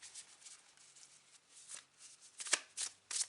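Tarot cards are shuffled by hand close up: soft papery riffles and slides in several short bursts, quiet and with no voice.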